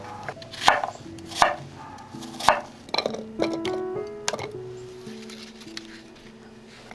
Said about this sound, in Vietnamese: Trước khi ướp thịt thì mình cắt hành cho vào cối nè.